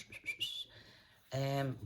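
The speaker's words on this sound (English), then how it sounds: "I'm whistling again" Short whistled notes, a few quick chirpy tones, followed by a brief hummed or voiced tone, close and fairly quiet.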